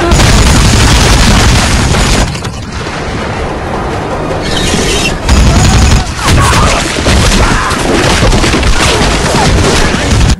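Heavy gunfire and explosive booms from the Gears of War: Judgment shooter, loud sustained bursts with a few brief lulls, mixed with other combat noise and some voices.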